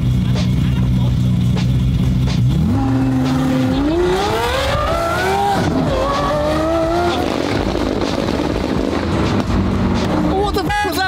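A Ferrari 458 GT3 widebody racecar revs hard on launch control. Its engine climbs in pitch in loud rising sweeps after a steady idle, then cuts off sharply near the end, heard up close.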